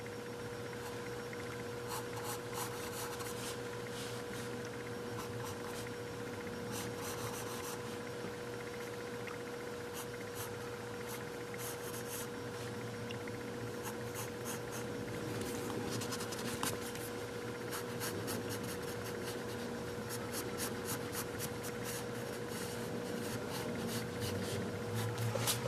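Pencil or pen drawing on paper while sketching the underside of a cartoon umbrella, a steady soft scratching and stroking that runs continuously and close by with no talk.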